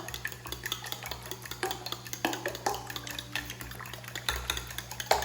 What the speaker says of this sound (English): And I'm gonna just beat this up really well.